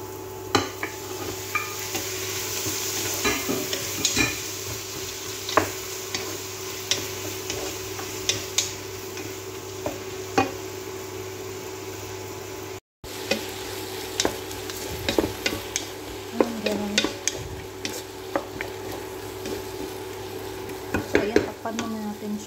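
Garlic and tomato fry gently in a pan, giving a steady low sizzle broken by scattered ticks and scraping stirs, with a constant hum underneath and a brief cut partway through.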